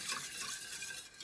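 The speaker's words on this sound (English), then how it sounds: "I will go ahead and mix those together" Ingredients for homemade ice cream, sugar among them, being quickly mixed by hand in a bowl, giving a close, continuous stirring and scraping swish with no talk.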